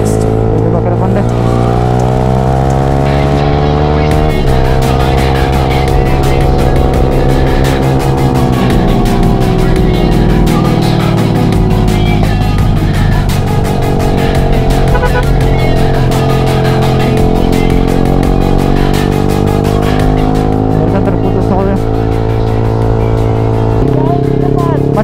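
Motorcycles and cars speeding along a road on a group weekend ride to a waterfall, engines roaring loudly and steadily with pitch sweeps as vehicles rush past, while a rider talks over the noise.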